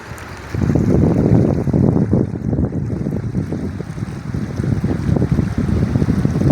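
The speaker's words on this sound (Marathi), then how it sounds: "तर अगदी पाणी जोरजोरानं वाहत आहेत" Fast-flowing river water rushes beneath a large road bridge in a continuous, loud roar, with gusts of wind buffeting the microphone.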